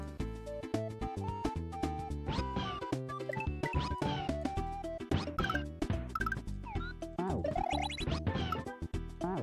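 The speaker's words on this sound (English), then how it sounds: "attacked by a cat." A cat meows in a video game, repeated tonal cries over a busy, loud game soundtrack with dense music throughout.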